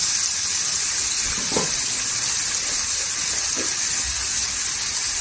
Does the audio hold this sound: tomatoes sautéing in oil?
yes